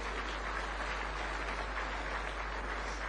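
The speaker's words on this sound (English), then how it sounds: "Clap for him." An audience claps for the keynote speaker at a prayer breakfast, a continuous, uniform wash of applause heard somewhat distantly over a steady low hum.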